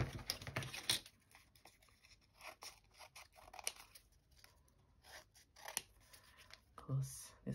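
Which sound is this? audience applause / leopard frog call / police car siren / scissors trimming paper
scissors trimming paper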